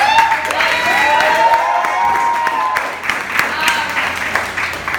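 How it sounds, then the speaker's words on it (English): An audience at a live poetry and performance event at Loud Gallery applauds and cheers a performer, with sustained clapping and bright whoops running throughout. "I want to give a big round of applause for SB"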